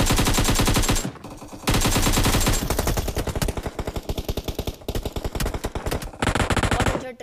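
Loud bursts of rapid automatic gunfire rip through a Battlegrounds Mobile India match, with long sustained strings of shots broken by brief pauses, close and dominant with no talk.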